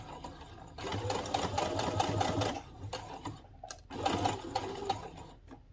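A sewing machine stitching a dress seam runs in two close, steady bursts with a short pause between them, a rapid mechanical whir and clatter at low volume.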